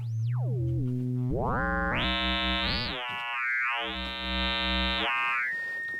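A synthesizer with switchable FM modulation and sine-wave oscillators plays sliding, swooping tones that jump between buzzy, harmonic-rich notes and thinner pitches, ending in a held glide. It sounds loud and continuous, with no voices.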